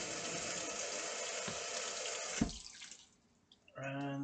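Tap water rinses a kitchen knife at a sink, a steady running hiss that breaks off with a few splashes and drips, then a short burst of flow resumes, close and without talk.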